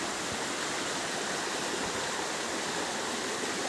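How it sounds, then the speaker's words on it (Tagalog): A countryside stream flows in a steady, dense rush of water, even and continuous from start to finish with no voices. "Kunting lakad lang, sapa na."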